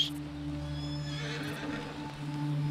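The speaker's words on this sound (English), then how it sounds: "Let's call my horse." A horse in the video game Red Dead Redemption II whinnies loudly near the start, followed by soft hoofbeats under a steady game music drone.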